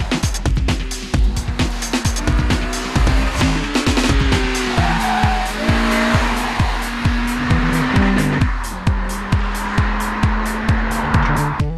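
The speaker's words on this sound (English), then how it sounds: "the range-topping Civic is capable of some" A Championship White Honda Civic Type R with a limited slip diff cornering hard, engine revving and tires squealing loudly through repeated gear changes and rhythmic pulses, close and sustained throughout.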